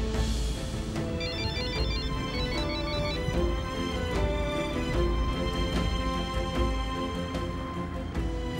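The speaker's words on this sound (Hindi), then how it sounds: "फोन उठाओ बिलाल।" A phone ringtone plays continuously, a repeating melodic electronic tune with steady rhythmic pulses, fairly loud and alone.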